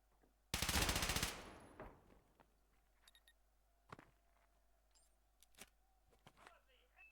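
Gunfire from a Call of Duty esports match, a loud burst of rapid automatic shots near the start, followed by scattered fainter single shots and game effects.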